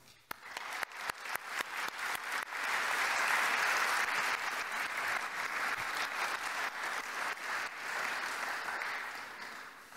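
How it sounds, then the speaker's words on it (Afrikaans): A church congregation at a thanksgiving morning service applauds its volunteers, sustained applause swelling from a few scattered claps into a full, steady round that carries on to the end. "Kom ons klap vir al hierdie mense dankie."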